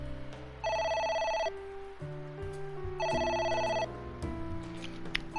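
A telephone rings in the video game AI The Somnium Files, two bright electronic trill bursts separated by a pause, heard clearly over a low game music bed with no talking.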